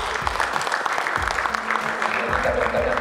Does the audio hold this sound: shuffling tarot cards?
no